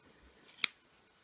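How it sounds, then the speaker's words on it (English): Scissors make a single quick snip through a nail polish removal pad, cutting it into strips; one short, crisp cut in an otherwise quiet room. "I cut them in three again."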